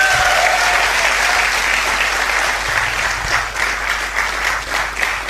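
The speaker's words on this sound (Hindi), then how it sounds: "जोरदार तालियां स्वागत करें" Dense audience applause at a motivational business event, loud and steady from start to finish, easing slightly toward the end, with a brief voice faintly heard under the clapping.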